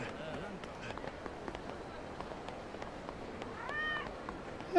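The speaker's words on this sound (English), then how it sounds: "Hey, kitty." A cat meows in the Yakuza 0 video game on a nighttime street near Sotenbori, with several short mews standing out over the game's ambient background and brief bursts of talk.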